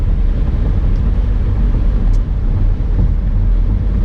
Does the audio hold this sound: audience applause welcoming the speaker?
no